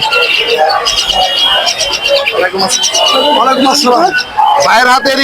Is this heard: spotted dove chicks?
yes